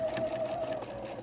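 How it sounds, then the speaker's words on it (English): A sewing machine stitches quilt seams at a steady, even hum with a faint high whine, running continuously and close by with no talk. "if you have a nice sewing machine, please go slow over those seams"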